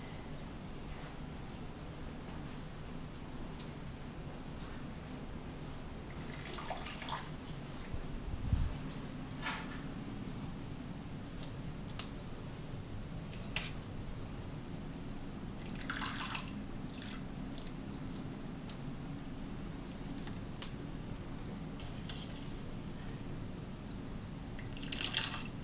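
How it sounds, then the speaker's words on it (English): Homemade ricotta being poured from a big pot through cheesecloth and a strainer, faint continuous trickling and dripping liquid with occasional soft splashes and clinks, fairly quiet throughout. "Now I'm going to strain it out of the big pot into the cheesecloth and the strainer here."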